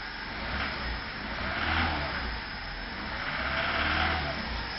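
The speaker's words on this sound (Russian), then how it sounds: "Все, холостые нормально. Давление масла пропало. Вот. Начинаем подгазовывать." A VAZ 2103 engine with knocking connecting rod bearings and lost oil pressure revs up and eases back a couple of times in a steady, close rumble, with no voices.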